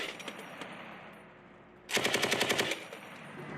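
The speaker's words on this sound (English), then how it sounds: "Marine gunners complete demanding counter-UAS training with M240B machine guns to sharpen their response to airborne threats" M240B machine guns fire during Marine counter-drone training, a short rapid burst of about ten sharp shots after a stretch of low ambient rumble, followed by echoing decay.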